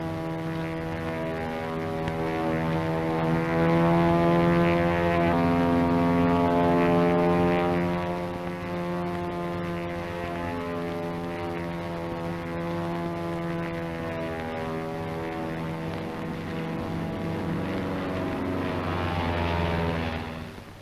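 A P-40 fighter plane flies overhead with a loud, droning propeller engine whose pitch swells and then slowly fades, a continuous roar with no talking.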